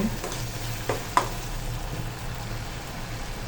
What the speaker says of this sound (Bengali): ভালো করে নাড়াচাড়া দিয়ে মশলাগুলো মাখিয়ে নিচ্ছি